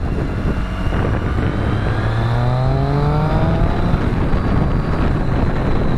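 A 2015 Triumph Street Triple motorcycle engine revs up steadily through rising gears as it accelerates past a lorry, with constant loud wind roar over the microphone throughout.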